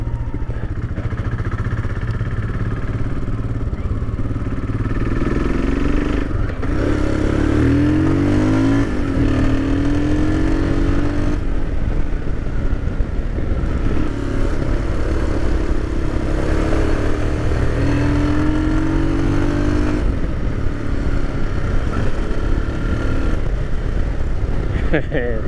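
Royal Enfield Himalayan big bore motorcycle ridden at high speed in fifth gear, a loud steady engine drone with rising and falling revs and wind rush, while the rider talks throughout.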